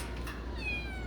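A cat at a cat shelter gives a short, faint meow, a single rising-and-falling cry over low background room noise.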